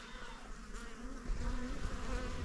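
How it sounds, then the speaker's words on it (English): Bees buzzing steadily on a farm in Hargeisa, Somaliland, a dense close drone that grows slightly louder partway through, with no talk over it. "Need to check on the bees too."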